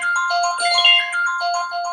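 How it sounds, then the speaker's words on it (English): A telephone rings with a bright electronic warble, its tonal pattern repeating steadily and fairly loud with no voices over it. "The telephone ringing is perfectly perfect."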